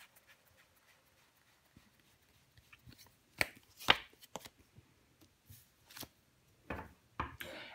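Tarot cards are laid down one after another on a table to cover the Queen of Wands, heard as soft, close, scattered slaps and shuffles of card stock with quiet gaps between.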